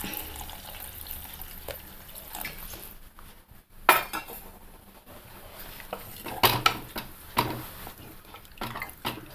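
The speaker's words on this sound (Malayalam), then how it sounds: "നമുക്ക് അതിന് ആവശ്യമുള്ള വെള്ളം ഒഴിച്ചു കൊടുക്കാം." Water poured into a pan of prawn and drumstick curry with kudampuli, heard as close clattering of a vessel and spoon, a splashing pour and sharp metallic knocks over a low kitchen hiss.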